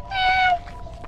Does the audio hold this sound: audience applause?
no